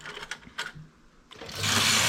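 A domestic knitting machine carriage slides across the needle bed while knitting a double-bar detail. It makes a short mechanical whir and clatter that swells into a loud, sustained rush near the end, with no voice over it.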